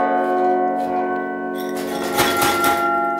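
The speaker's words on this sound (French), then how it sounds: "Seule une dizaine de cloches fonctionnent encore." Cathedral carillon bells, only about ten still working, ring with long, sustained tones, then a louder, denser cluster of strikes swells partway through.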